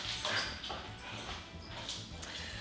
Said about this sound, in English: That's my dog getting all whipped up.